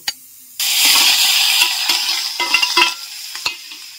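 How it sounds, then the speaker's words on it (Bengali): Prawns seasoned with salt and turmeric hit a hot pan with a sudden loud sizzle that holds steady, while a spatula scrapes and stirs in a few sharp clinks. "নুন দিয়ে, সামান্য নুন, একটু হলুদ দিয়ে এটাকে আমি ভেজে নেব।"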